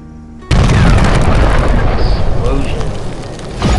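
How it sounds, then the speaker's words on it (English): A sudden loud boom bursts in a Flippy Knife mobile game, followed by a sustained rumbling roar of debris and crackles that slowly fades before a brief swell at the end. "Explosion."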